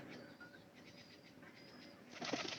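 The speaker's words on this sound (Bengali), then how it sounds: "অনেক আছে কবুতর।" Pigeons coo in a loft, soft low calls repeating under faint background noise, with a brief louder burst of wing flapping or rustling near the end.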